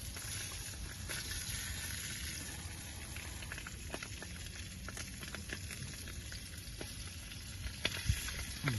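Merguez sausages sizzle over an outdoor campfire, a steady dense crackle of fat spitting with scattered pops and a brief louder flare near the end, no voices.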